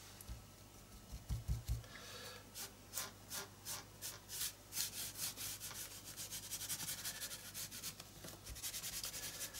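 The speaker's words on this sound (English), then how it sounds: "And just rub a little bit." Rhythmic rubbing of orange paint onto a surface to age it, a brush or cloth scrubbing in a steady series of close strokes, quiet at first and then growing denser and more continuous.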